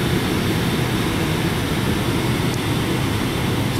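A Mercedes-Benz Actros 1845 tractor truck engine running, heard from inside the cab as a loud, steady, broadband drone that holds level throughout, with no talking.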